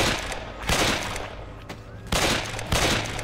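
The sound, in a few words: gunfire in Survivors of the Caribbean video game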